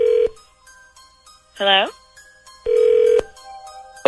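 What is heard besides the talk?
telephone ringing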